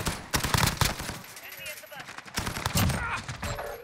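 PP submachine gun fire in Call of Duty Modern Warfare, with rapid bursts of shots and overlapping distant gunfire, some in close clusters.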